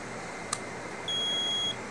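A homemade solar car battery charger emits a short high electronic blip, then a steady beep of about half a second when plugged in, both over a constant background hiss.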